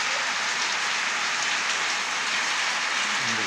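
Heavy rain pours down in a village, a dense, steady hiss of drops hitting surfaces nearby, loud and unbroken with no voices.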